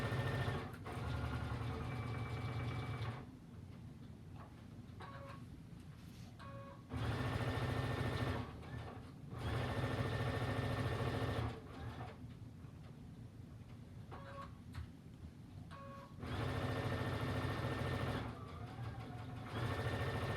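A sewing machine stitches around the edge of a quilt in sustained loud runs of several seconds each, separated by short quiet pauses. The motor hum and rapid needle ticks sound close.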